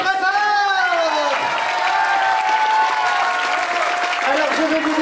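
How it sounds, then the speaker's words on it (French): An audience applauds musicians at a live school or community show, sustained crowd clapping with some cheering, while sung or sustained musical tones and voices carry over the top of the applause. "Applaudissez-les très fort."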